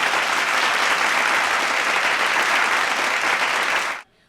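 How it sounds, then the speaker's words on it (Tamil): Loud, dense audience applause at a Women's Day special debate event in Madurai, welcoming a guest named Gauthami; a full hall claps steadily for about four seconds, then stops abruptly. "கௌதமி அவர்களுக்கு பெரிய கரகோஷம் கொடுத்து"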